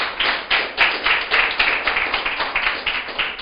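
Congregation clapping during a sermon: steady rhythmic hand claps from many people throughout, dense and fairly loud, with no talk.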